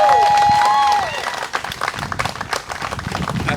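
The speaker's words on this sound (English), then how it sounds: "Let's give the Bobby Rush another round of applause." Applause from an audience at a museum of art blues event, uneven clapping following a loud cheer and whistle at the start, fading to scattered claps.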